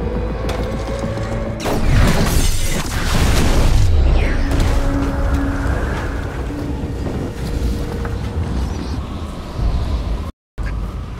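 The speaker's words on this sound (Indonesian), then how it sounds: "Dan satunya lagi yang bernama Resnick, dia tewas karena ledakan." A loud explosion in an action film: a boom and crash erupts early, followed by rumbling, mechanical clatter and a descending whoosh before a brief silence.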